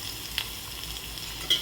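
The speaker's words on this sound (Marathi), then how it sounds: "जिरेला छान फुलू द्यायचं, तडपू द्यायचं. तर आणि लसूण घालायचं." Cumin seeds and garlic fry in hot oil with a steady, soft sizzle, broken by a couple of brief stirring scrapes.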